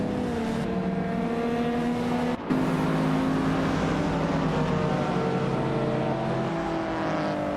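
A 1991 Honda CRX hatchback race car in a racing video game holds a loud, steady engine drone with layered tones, broken by a brief dropout partway through, with no talk.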